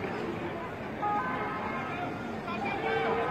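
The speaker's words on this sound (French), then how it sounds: "Nous entendons tous une ambulance qui vient." Ambulance siren approaching outside a hospital during unrest, a steady wailing tone rising through a noisy backdrop of crowd murmur and street commotion, continuous throughout.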